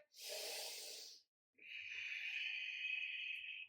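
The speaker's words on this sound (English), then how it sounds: "Breathing, breathing, breathing." Deep breathing during a core breath-work exercise: a sharp hissing inhale through the nose, a brief pause, then a long, steady hissing exhale, close and alone.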